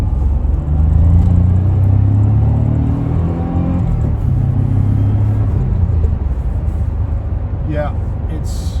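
A 1989 Maserati 430 with a 5-speed, accelerating hard in second gear: a loud, close engine rumble rising in pitch as it revs, then a shift and renewed pull, with a person talking over it.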